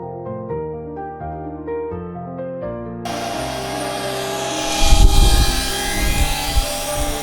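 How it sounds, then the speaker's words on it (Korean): After a few seconds of melodic music, a camera drone filming a deep mountain pool hums with a steady, loud buzzing whine that swells briefly in the middle. "고박소의 드론 촬영은 이렇게 마무리합니다."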